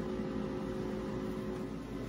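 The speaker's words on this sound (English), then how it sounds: "I can hear sizzling inside" A CrispX air fryer runs with a steady, low whirring fan hum that stays even and fairly quiet throughout, with no voices.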